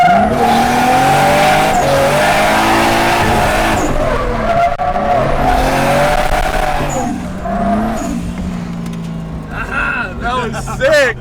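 A Nissan S13 with a 1JZ engine skids in third gear across a parking lot. The engine roars loud and close and the tires squeal continuously, with the revs rising and falling, and voices are faintly audible near the end.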